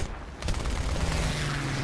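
Aircraft cannons on a Heinkel He-112 B-1/U2 fighter fire in War Thunder, a dense rapid burst of gunfire clattering over steady engine drone, then fading into the continuous hum of the plane.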